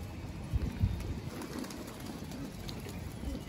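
Pigeons cooing softly at a Delhi pigeon-keeping rooftop, low murmuring coos with a couple of brief louder throaty notes early on, faint against quiet outdoor background.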